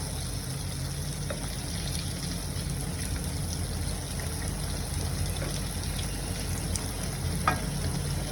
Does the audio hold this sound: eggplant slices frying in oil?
yes